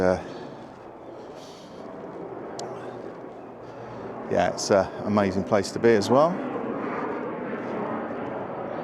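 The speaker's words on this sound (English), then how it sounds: "that would be the plane going across. That's a private one." A private propeller plane passes over near an airport on the Isle of Man, a steady low engine drone running throughout beneath a man's close, clear speech.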